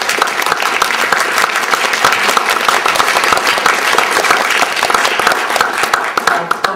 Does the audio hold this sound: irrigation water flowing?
no